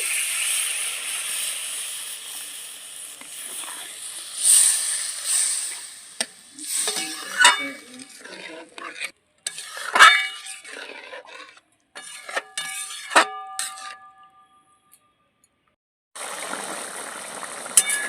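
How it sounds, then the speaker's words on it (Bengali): Water poured into fried spice masala in a pan for a duck egg curry, a hissing sizzle with liquid splashing and stirring scrapes, then a quieter stretch before the hiss returns. "এবার আমি পরিমাণ মতন জল দিয়ে দিচ্ছি"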